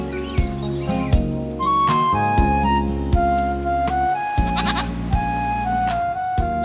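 Black goats on a Jirisan mountain farm bleat at their morning roll call, several overlapping, wavering calls rising and falling close by over a steady layer of insect-like buzzing.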